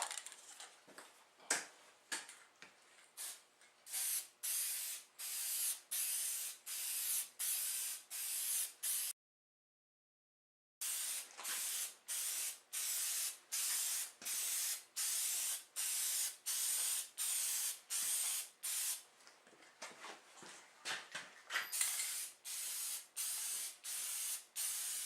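Blue paint spray-coated onto the underside belly pan of a snowmobile sled in repeated short bursts, each a steady close hiss lasting about a second with brief gaps, pausing once before resuming.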